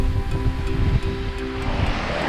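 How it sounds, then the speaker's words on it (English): Ocean waves crash and wash around a sailboat under sail at sea, with loud churning surf, gusty wind rumble on the microphone and a faint tonal hum from the boat underneath. "The waves are crashing all over the place."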